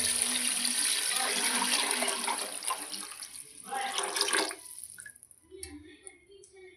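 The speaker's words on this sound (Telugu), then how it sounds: "ఇప్పుడు వాటర్ పోసుకోవాలి." Water pours steadily into a cooking pot for biryani rice, a continuous splashing gush that fades and stops, leaving a few light drips and clinks.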